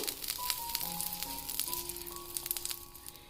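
Butter sizzling and frying on a well-heated tawa griddle, a steady close crackle with small pops and faint tonal clinks running throughout, no voices.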